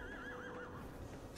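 A giant horse in the Shadow of the Colossus video game lets out a wavering, quavering neigh, fairly close and clear, fading off with faint hoof noise and no talk.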